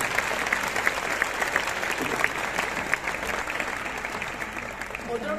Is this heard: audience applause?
yes